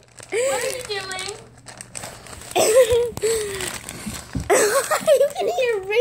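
A dog with its head stuck in a bag breathes loudly, giving raspy wheezing huffs mixed with crinkling plastic, while a person talks nearby.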